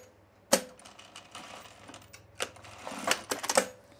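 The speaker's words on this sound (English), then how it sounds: "And now I'm going to sew across the end." A sewing machine stitches across the end of an elastic casing on a tool belt, giving sharp clicks and short mechanical rattling bursts, close and fairly quiet, with no talk.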